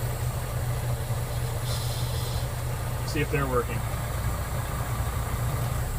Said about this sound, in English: I'm going to be putting the tractor in first gear